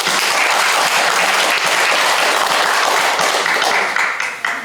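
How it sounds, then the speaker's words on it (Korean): Sustained applause from an audience at a Korean National Assembly press club seminar, dense steady clapping that fills the whole stretch and tapers slightly at the end. "박수로 끝냅니다."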